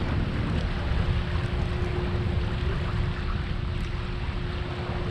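A kayak motor running at about 5% power gives a thin, steady whine that holds beneath heavy wind buffeting and water noise, constant throughout the few seconds.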